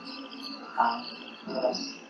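A frog calls to attract a female in the Western Ghats, two fairly soft bursts about three-quarters of a second apart, heard over a steady chorus of insects chirring in the background.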